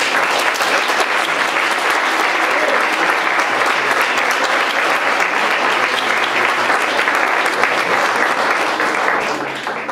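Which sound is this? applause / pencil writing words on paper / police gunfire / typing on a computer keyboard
applause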